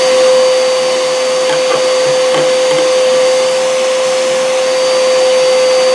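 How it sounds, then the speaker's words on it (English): A vacuum attached to a Wen 6-inch spiral cut jointer runs steadily and loudly throughout, a constant whine with a faint hum beneath it and no voices. "before I put the vacuum on it"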